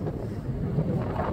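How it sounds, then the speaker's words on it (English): Strong wind on the beach at Camber Sands buffets the microphone in a brief, low, rumbling gust that is loud and close, with no speech. "So windy!"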